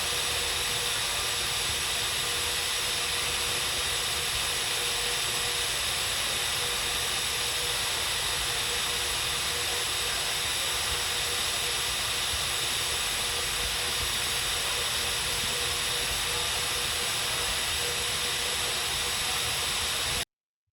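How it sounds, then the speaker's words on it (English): San Francisco cable car winding engines run in a steady, broad mechanical hiss and whir, a continuous unchanging roar of machinery with no voices. "I'll show a clip of the winding engines in action here,"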